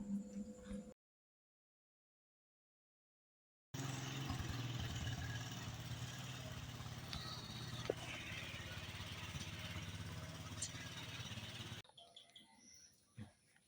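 A 150cc motorbike engine runs steadily in a homemade vehicle, a continuous low rumble with a constant hiss over roughly eight seconds, cutting off near the end, with faint birds in the background.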